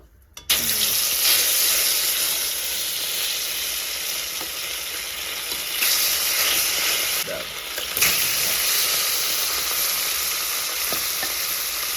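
Fish is slid into hot oil in a wok and bursts into a loud, dense, continuous sizzle that starts abruptly and stays strong throughout.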